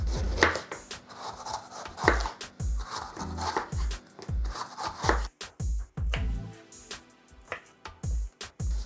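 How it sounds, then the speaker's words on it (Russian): Rapid knife chops through bell pepper on a cutting board, a steady run of sharp taps slowing into scattered cuts, close and alone. "Порежу перец."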